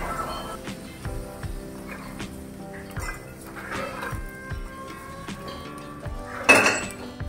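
A dry red chutney mixture for vada pav is tipped into a mixer grinder jar, giving a series of light metallic clinks and taps of a spoon against the jar, ending in a louder clatter.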